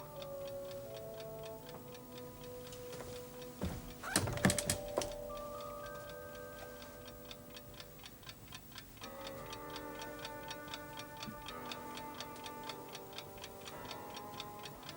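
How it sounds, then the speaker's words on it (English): An old clock ticking steadily in a room, faint and regular, with a brief sharp clatter near the start and soft chiming tones drifting over it; no voices. "My dad's had that clock for years."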